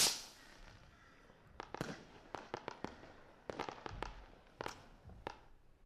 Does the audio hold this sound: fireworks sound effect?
yes